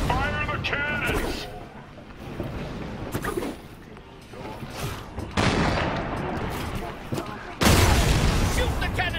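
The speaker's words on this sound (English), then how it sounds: "Fire the cannons!" Cannons boom and fire in heavy bursts during a siege battle in the video game Sunset Overdrive, with loud blasts around the middle and end, under shouted voices and game action.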